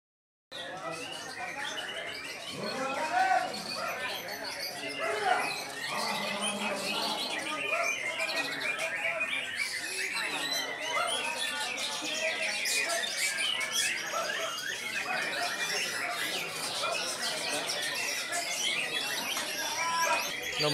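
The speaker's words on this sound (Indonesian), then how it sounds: "Nomor 19, Murai Batu Bima" A white-rumped shama (murai batu) sings at a bird contest, its dense warbling phrases running continuously amid a busy crowd and other birds, with voices talking throughout.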